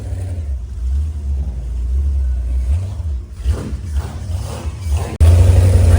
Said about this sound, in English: I hate Fords, but this is a badass motor.